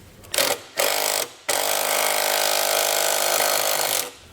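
A bolt on a DeeZee NXc running board installation kit being tightened with a 13mm socket on a power tool, heard as two short loud whirring bursts and then a sustained close buzzing run that stops abruptly.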